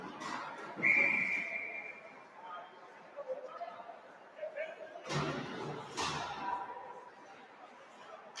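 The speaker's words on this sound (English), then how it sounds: "And we'll get a whistle and a stoppage in play here." A referee's whistle stops play in a college ice hockey game between Rutgers and Niagara. One clear, sustained blast rises over arena crowd chatter, followed by thumps and a commentator talking.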